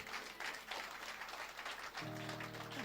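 A church congregation claps together during a Sunday service, a dense wash of applause that stays faint and continuous, with a low tone entering partway through.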